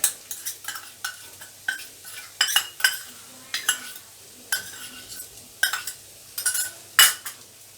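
A spoon repeatedly scrapes and clinks in a pan of banana stem stir fry with grated coconut, quick irregular strokes close up over a faint sizzle.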